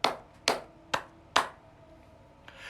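Hand claps at a live Sunday church service: four sharp, separate claps about half a second apart, then a fainter one, in a quiet room with no talking.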